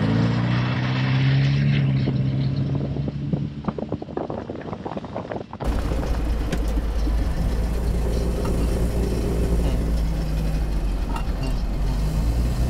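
Sunbeam Alpine sports car with a factory automatic transmission driving along, a low engine drone with heavy wind buffeting on the microphone, the tone shifting partway through, and no voices.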